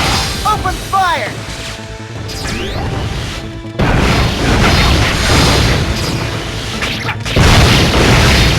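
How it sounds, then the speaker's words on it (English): Cannon fire in the video game Warriors Orochi 2, heavy booming blasts and crashes that build into a loud, sustained barrage after a short shouted command, with whooshes and battle noise layered throughout. "All cannons! Open fire!"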